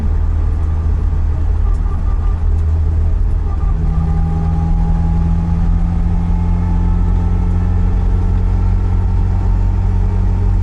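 Nissan 200SX engine running rough with a misfire while driving, a loud continuous engine drone with road noise inside the car, steady throughout and without speech.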